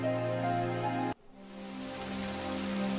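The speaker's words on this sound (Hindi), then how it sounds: "बाहर बारिश की तेज आवाज घर के अंदर तक गूंज रही थी।" Steady, dense rain noise, with a sharp cut about a third of the way through before the broad hiss returns and continues evenly to the end.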